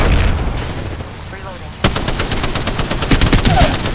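Apex Legends gunfire, a loud sharp automatic burst that starts abruptly partway through and runs as a rapid, even stream of shots over a busy game background.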